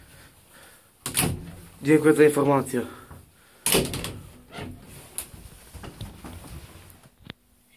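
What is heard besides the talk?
lift door closing, ZREMB elevator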